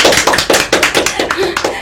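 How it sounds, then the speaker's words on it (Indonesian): Audience clapping at an Indonesian business talk show, a close, steady run of sharp hand claps filling the whole stretch. "Luar biasa, tepuk tangan dulu dong."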